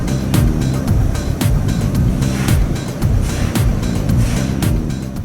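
A Toyota Tundra TRD Pro truck descending a steep off-road hill, with a loud, rumbling engine and repeated bumping, crunching thuds as it rolls over rough ground.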